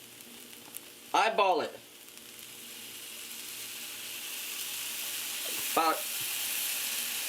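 Onions and minced garlic fry in a skillet with a continuous soft sizzle and hiss that builds slowly, while a person speaks briefly over it twice.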